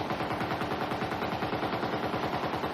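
Film gunfire: a sustained, rapid rhythmic burst of machine-gun shots, loud and continuous with no talk.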